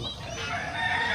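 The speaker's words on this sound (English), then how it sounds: "It's a rooster, baby." A rooster crows once in a single drawn-out call at moderate distance, with a steady farmyard background and no talking over it.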